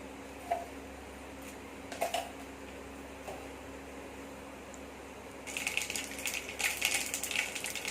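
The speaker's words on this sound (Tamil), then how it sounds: "கடுகு நல்லா பொரிஞ்சிருச்சு" Mustard seeds and urad dal pop in hot oil for radish chutney: a few isolated crackles at first, then a dense burst of sputtering and popping in the final seconds.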